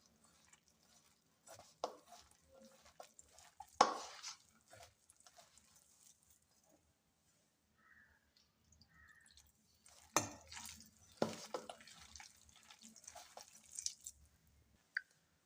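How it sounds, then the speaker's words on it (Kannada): Bajji batter of rice flour being mixed with water by hand: soft, wet squishing and slapping bursts, intermittent and close, with quiet gaps between handfuls. "ಈಗ ನೋಡ್ರಿ, ಸ್ವಲ್ಪ ನೀರು ಹಾಕಿ ಕಲಿಸ್ಬೇಕ್ರಿ."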